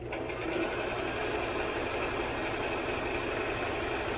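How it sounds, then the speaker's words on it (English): A household clothes dryer runs with a steady, low mechanical hum and faint rattling vibration that continues unchanged throughout. "Dryer is going because I decided to dry"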